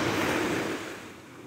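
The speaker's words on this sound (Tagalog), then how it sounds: "Malakas lang ang alon." Steady rushing surf noise, broad and continuous, with waves washing in close by and no voices.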